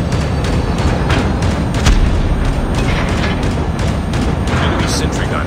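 Destruction of an enemy sentry gun in the mobile shooter Call of Duty Mobile, heavy booms and gunfire rolling continuously at close range, with a voice speaking over the battle din.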